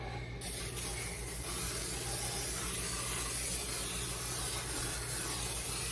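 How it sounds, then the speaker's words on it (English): A steady, close hiss of cooking oil spray on a metal sheet pan runs without a break, with no voices. "I still like to spray a little bit just to be on the safe side"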